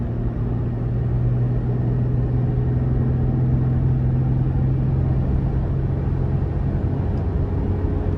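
A 2023 Toyota 4Runner Limited with a 4.0 V6 and five-gear automatic under moderate throttle while driving, giving a steady low engine drone and road rumble inside the cabin, constant and unbroken.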